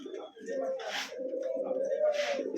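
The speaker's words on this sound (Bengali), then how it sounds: "সুপার কোয়ালিটির এক জোড়া গুগু ডাকতেছে" A pair of doves cooing close by at a bird market, soft low repeated coos in two or three phrases over a quiet background with brief hissy noises between.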